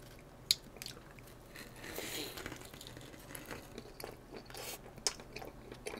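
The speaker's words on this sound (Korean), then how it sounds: "전주 불백 피자 먹어볼게요." Someone bites into a Jeonju bulbaek pizza up close, with a couple of sharp crunchy bites and softer chewing and crinkling between them, no talking.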